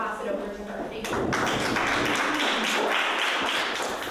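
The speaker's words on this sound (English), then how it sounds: "Let's give her a big round of applause" An audience greets a guest speaker with a burst of applause that starts abruptly and holds steady as a dense patter of many hands in a lecture room.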